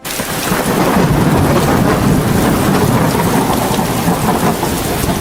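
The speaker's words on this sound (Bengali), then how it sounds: "কিছুক্ষণের মধ্যেই তীব্র ঝড় ও বৃষ্টি শুরু হয়ে যায়" Heavy rain pours down steadily with rumbling thunder, a loud, continuous storm with no voices.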